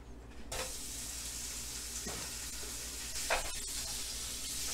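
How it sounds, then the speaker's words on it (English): Pork crumbles cooking in a pan for egg roll filling give a steady, broadband sizzle throughout, close and fairly loud, broken by a few brief scrapes and clatters as the meat is moved. "now I'm gonna cook the pork"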